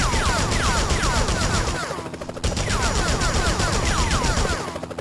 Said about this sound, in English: Enough with the shooting already!